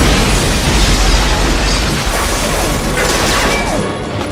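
A loud, dense grenade explosion roar fills the space, a sustained rumbling crash with debris noise that slowly tapers off.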